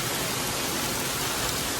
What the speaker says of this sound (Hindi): और थोड़ी बारिश भी वैसे ही हो रही है.